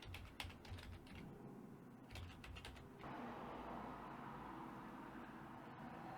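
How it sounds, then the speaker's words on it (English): Computer keyboard typing as a username and password are entered to log into software, a quick run of soft key taps at the start, a short burst around two seconds, then faint steady background noise. "you just type in the username and the password"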